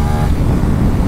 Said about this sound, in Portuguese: No cabo a moto levantando de quarta marcha